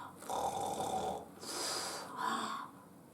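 A sleeping man snoring loudly, three long rasping snores in steady rhythm, close up with faint background hum.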